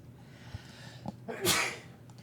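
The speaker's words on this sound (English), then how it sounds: "I'm going to sneeze." A single person sneezes once, a sharp nearby burst after a couple of quiet breaths and small sounds, against a calm indoor background.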